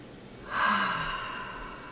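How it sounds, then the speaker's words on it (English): A single deep breath drawn in slowly through the nose, a soft close rush of air that swells and then gradually fades, with no talking. "Nice deep breath."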